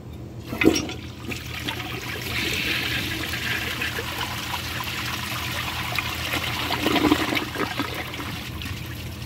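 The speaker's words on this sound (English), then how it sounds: "Surprisingly, this thing actually has a half-decent flush." A 1998 Nacesa toilet flushes with a sudden rush of water, then a steady churning drain and trickle that swells again near the end, heard close up with no voices.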